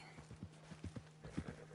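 Horse hooves clip-clopping in a steady, close rhythm with a brief whinny, from the video game Red Dead Redemption 2, over a low steady hum.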